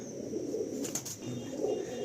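Black-eyed phulsira pigeons coo in a steady low, throaty murmur, close and fairly quiet, with a brief higher chirp near the middle.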